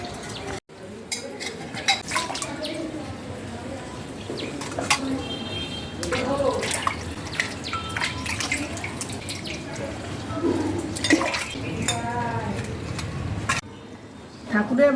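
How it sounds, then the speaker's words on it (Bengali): Brass puja utensils, already scrubbed with papaya leaves, are rinsed under running tap water at a sink, with a steady splash and patter, clinks of metal and birds chirping in the background. "ধুয়ে নেব জলে।"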